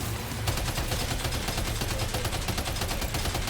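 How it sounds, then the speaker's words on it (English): Rapid machine gun fire in Death Stranding 2, a close, loud stream of fast bursts rattling continuously, alone without talk. "When in doubt, use a machine gun."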